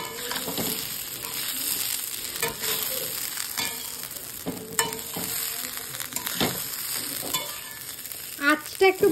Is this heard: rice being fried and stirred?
yes